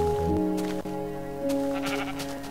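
A Minecraft sheep gives a couple of close, clear bleats over a steady tonal game background.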